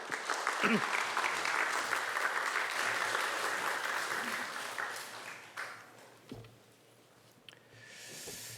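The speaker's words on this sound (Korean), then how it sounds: "목사님 나오실 때 크게 박수 해주시기 바랍니다." A church congregation claps loudly as the pastor comes forward, the dense applause gradually thinning and fading out, leaving quieter room noise and brief sounds near the end.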